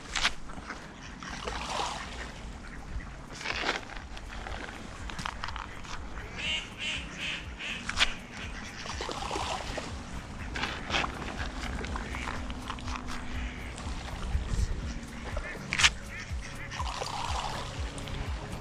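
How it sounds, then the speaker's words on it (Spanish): Ducks quack near a lake during a carp fishing session, their calls mixing with splashes, trickling water and outdoor rustling in a busy, steady ambience. "Espero que no se lo coman todos los patos."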